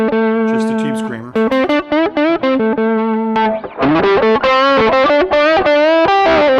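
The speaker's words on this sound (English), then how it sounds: "Just a tube screamer." An electric guitar through a Tube Screamer overdrive pedal alone plays a loud, distorted lead line of bent, sustained notes and quick picked runs, close and with no other sounds.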